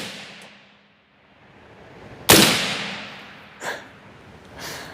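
A scoped rifle fires a single loud, sharp crack with a long reverberant tail, followed by two fainter, brief bursts later on.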